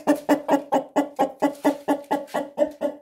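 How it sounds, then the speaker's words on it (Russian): Two roosters kept with backyard hens give a rapid series of about a dozen loud, evenly spaced clucking calls, close by and without talk. "Вчера люди некоторые написали, что это петух."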